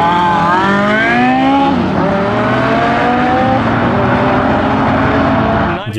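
A Koenigsegg Agera and a Bugatti hypercar racing, engines screaming loud with rising then steady high revs and rushing tire and wind noise, ending in a sudden cut.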